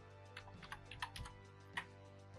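Soft, quiet clicks of keys being pressed on a computer keyboard's numeric keypad while an Alt code is entered. The irregular taps come one after another, close and faint, with no one speaking.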